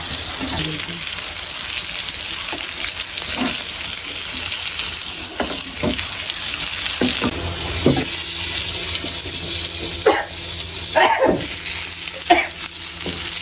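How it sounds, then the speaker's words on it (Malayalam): Fish frying in a pan at home during an Onam meal preparation: a steady close crackling sizzle throughout, with occasional clinks and stirring scrapes and brief bits of voice under it. "ഇപ്പുറത്ത് മീൻ ഫ്രൈ, ഇപ്പുറത്ത് മീൻ മുട്ട."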